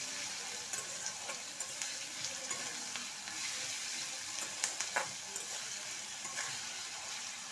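Onions and salt frying in a pan for an egg curry, a steady close sizzle with soft scraping as they are stirred, no voices over it.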